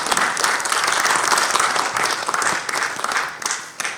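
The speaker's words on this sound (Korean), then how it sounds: "박수로 우리 교수님을 모시겠습니다." A symposium audience applauds to welcome a professor to the stage, a broad, continuous wash of many clapping hands, fairly loud and steady with slight swells throughout.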